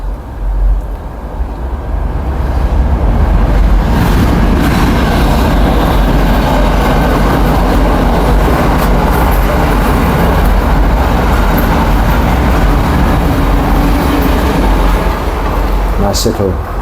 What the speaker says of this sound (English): Nice little break to watch the breath as the train goes by.